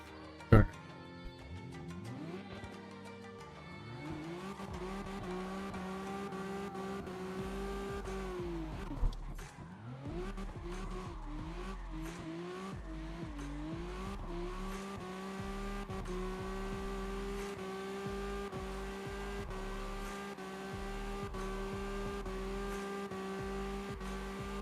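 Cars drifting in CarX Drift Racing Online, with sustained engine revs rising and falling over a steady droning tone, a brief squeal or knock early on, and steady throttle blips throughout.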